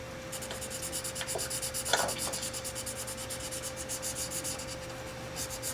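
Marker rubbing steadily on paper as a child's monster drawing is filled in, a continuous close scratchy stroking with a few brief louder strokes, no talking.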